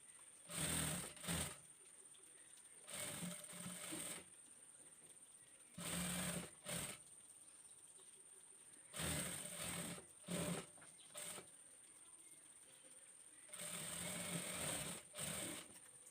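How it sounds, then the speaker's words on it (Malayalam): A sewing machine stitches the folded armhole hem of an Arabic dress in several short bursts of whirring needle clatter, separated by quiet gaps, close and fairly loud. "2 ആം ഹോളും നമുക്കിതുപോലെ ചെറുതായിട്ട് മടക്കി സ്റ്റിച്ച് ചെയ്തെടുക്കാം"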